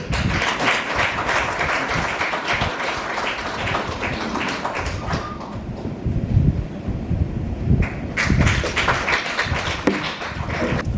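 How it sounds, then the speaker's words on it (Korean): An audience at the opening of the World Korean Journalists Convention applauds to welcome the Commissioner of the Overseas Koreans Agency, dense steady clapping from many hands, briefly thinning midway before swelling again. "박수로 맞아주시죠"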